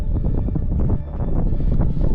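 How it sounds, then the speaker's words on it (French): Strong wind in the high mountains buffets hard against the microphone, a loud, rumbling gusting roar that surges and dips over about two seconds. "Il y a un vent de fou, là."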